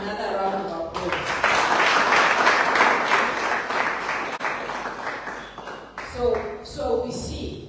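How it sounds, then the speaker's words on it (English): Audience applause at a training workshop meeting swells after a short spoken lead-in, holds steady for several seconds, then breaks off as a speaker resumes talking over the last scattered claps. "Let's give him another round of applause."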